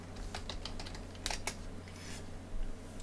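Keys clatter on a computer keyboard, a quiet run of soft, quick taps with a few sharper strokes, close by over a low steady hum, with no talking.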